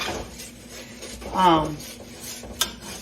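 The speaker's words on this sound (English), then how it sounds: "Stirring constantly. I'm stirring, y'all. I'm stirring." Caramel icing being stirred in a pot, heard as a soft, scraping rub of a utensil against the pan with a faint metallic tick, close by and fairly quiet.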